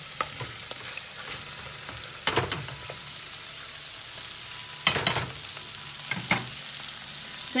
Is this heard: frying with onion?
yes